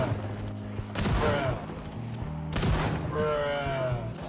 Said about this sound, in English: one came to me with a shotgun, which I used ineffectively